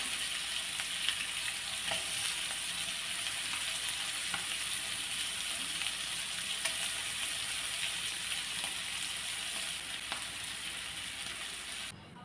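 Chicken pieces for a Kerala-style chicken fry sizzle steadily in hot oil, a continuous close crackle with occasional soft clicks as the pieces are turned.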